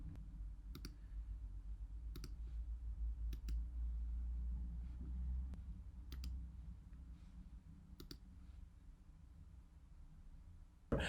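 A handful of sharp, isolated mouse clicks, spaced a second or two apart, sound faintly over a low room hum while an image is uploaded on a computer.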